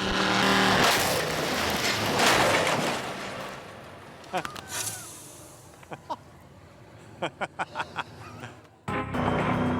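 A car is towed flat out down a test track before a head-on crash, heard as a loud, continuous rushing engine and road roar for several seconds, then a series of sharp bangs and a renewed loud roar at the end.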